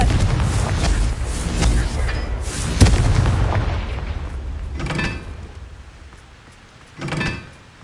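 Confringo fire spell blasting in Hogwarts Legacy, a loud booming burst with a crackling tail, followed by two smaller thuds of impact later on.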